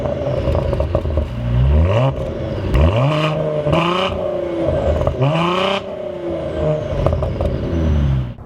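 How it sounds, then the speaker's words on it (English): A Cadillac ATS-V with a turbocharged six-cylinder engine revs repeatedly, several rising throttle blips climbing and dropping back, loud and close with no voices. "This isn't a bad sounding engine by any means."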